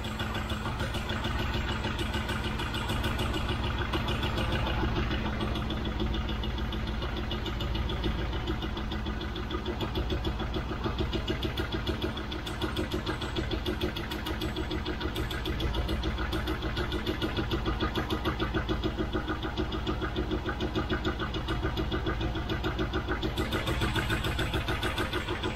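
An idling Rover V8 engine runs steadily and close by, its ticking hydraulic tappets giving a fast, even clatter under the low rumble, with no talking.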